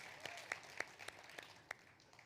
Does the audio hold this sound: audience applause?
yes